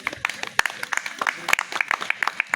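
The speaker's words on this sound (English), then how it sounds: "Can we clap for His Excellency, the President-elect?" A university open-air crowd claps for the President-elect. The applause comes as sparse, uneven individual claps rather than a full ovation, with voices in between.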